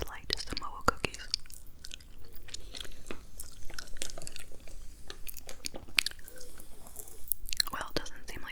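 Intense close-up gum chewing with wet smacks and crunchy bites in irregular rhythm, mixed with faint whispering and occasional page rustles from a magazine.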